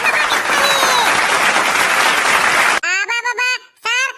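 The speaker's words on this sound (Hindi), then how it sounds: "जोरदार तालियां बजाओ रे हमारे चिरका भाई के लिए" Loud, dense crowd applause fills the first three seconds, cheering for a singer at an Independence Day cartoon celebration, then cuts off abruptly as voices begin speaking.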